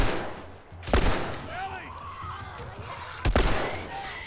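Two sharp, loud gunshots roughly two seconds apart ring out in The Last of Us, with a voice talking between them over game ambience.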